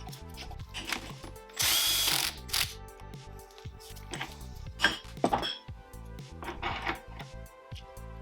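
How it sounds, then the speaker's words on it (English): A power tool removes a 14 mm nut on a Honda Hobbit moped's rear pulley: one loud, sustained burst of buzzing and rattling, then several shorter whirs, clanks and metallic knocks close up. "First you need to remove this nut. It's a 14."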